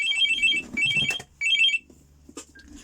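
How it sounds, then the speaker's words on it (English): A phone rings in repeated bursts of a bright electronic ringtone, three close trilling rings, then cuts off, leaving quiet room noise with faint rustles. "So she's just stopping her phone ringing."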